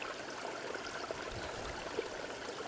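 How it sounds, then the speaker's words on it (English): A small, shallow stream trickles steadily outdoors at an off-grid rural site, a soft continuous wash of water with faint gurgles, moderately distant and fairly quiet, with no one speaking. "So this one is a little stream, not really much water"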